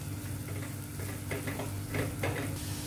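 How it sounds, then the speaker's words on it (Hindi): A small, finely chopped onion softens in melted butter over a low flame, giving a steady, gentle sizzle with faint stirring scrapes throughout. "फ्लेम को लो रख के हमें प्याज को सिर्फ नरम करना है"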